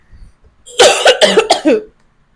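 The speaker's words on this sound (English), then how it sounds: "I am gonna go so that I stop coughing in you guys' ear" A short burst of several harsh, wet coughs in quick succession, close to the microphone, after a brief quiet breath.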